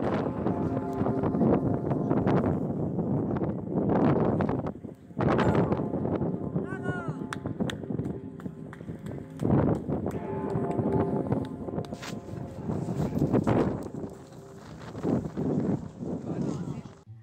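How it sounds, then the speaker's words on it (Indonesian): Strong winter wind buffets the microphone outdoors in Austria around Christmas and New Year, a loud roaring rumble in long gusts with brief lulls and a faint bell-like ringing beneath. "Agak lebih berisik suara angin ya daripada suara loncengnya sendiri."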